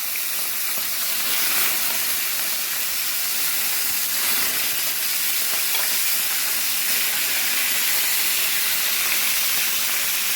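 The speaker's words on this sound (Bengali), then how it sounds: "চলো মাছটা ওখানে ভাজা হোক" Fish fries in hot oil with a loud, continuous sizzle and hiss that holds steady for about ten seconds, no voices over it.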